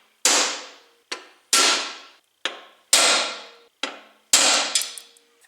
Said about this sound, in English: when I smack it with the hammer, it will put a center punch mark dead center in all 4 of these holes